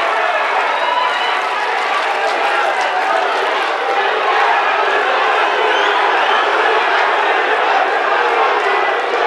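An audience applauds at a televised regional election debate between regency candidates in Sorong, a dense, steady roar of many hands clapping that stays loud and unbroken throughout.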